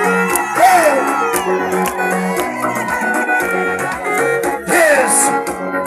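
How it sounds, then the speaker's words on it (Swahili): Congregation at a church service cheering, whooping and clapping in a dense, steady crowd roar, mixed with tonal music or singing throughout, swelling again near the end. "Hebu nisikie makofi mtu wa Mungu."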